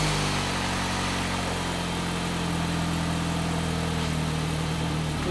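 An Ecotec car engine idles close up, a loud, steady, even hum with a constant low drone and no breaks.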